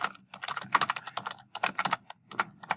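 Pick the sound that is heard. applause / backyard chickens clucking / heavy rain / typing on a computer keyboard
typing on a computer keyboard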